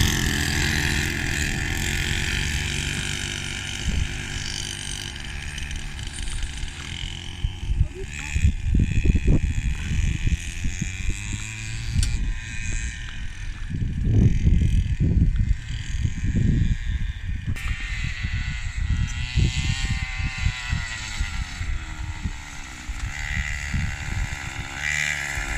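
Small 50cc mini moto motorbike engines buzz and whine continuously as children ride them outdoors, the revs rising and falling, with voices talking and shouting over the engine noise.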